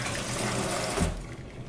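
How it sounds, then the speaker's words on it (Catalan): A tap runs over a red pepper being rinsed at a sink. The close, steady splash of water lasts about a second, then drops off and softens. "La rebetjam amb aigua i després la posam a sofregir."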